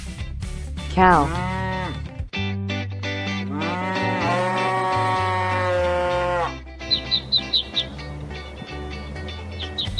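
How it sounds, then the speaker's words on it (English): A cow moos in several long, drawn-out lowing calls over soft background music, loud and near, followed by a brief run of quieter, choppier sounds. "Cow."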